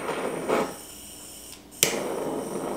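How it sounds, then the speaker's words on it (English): Butane kitchen torch igniting while an Old Fashioned cocktail is prepared: a short hiss, then a sudden sharp pop as the flame catches, followed by a steady roaring hiss. "breaking out my just gaudy, but gosh do I love it, but my gaudy butane torch"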